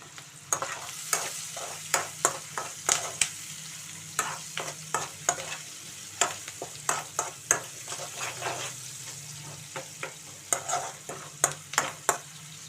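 Onions and curry leaves frying in a pan, with a steady sizzle under repeated sharp scraping and stirring strokes that come in an irregular rhythm, close and moderately loud.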